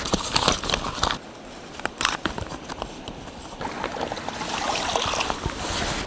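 Water is scooped into a new water filter bag outdoors in northern Finland, giving close splashes, sloshing and gurgles with a few sharp plastic rustles, uneven in rhythm and swelling to a steadier pour near the end.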